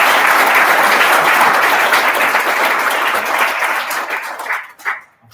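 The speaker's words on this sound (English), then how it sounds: "Can we give him a huge round of applause?" Loud, dense audience applause fills the room after a talk on Fourier analysis visualisation, holding steady and then thinning into a few scattered claps near the end.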